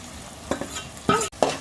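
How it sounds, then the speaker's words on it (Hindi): Masala being sautéed for a prawn biryani, a spoon clattering and scraping in the pot in short bursts over a soft background sizzle, close by with no voices. "तो हम लोग को थोड़ा भूनना है इसमें। अभी मसाला डाल रही हूँ।"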